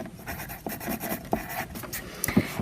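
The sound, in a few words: pencil writing a name on paper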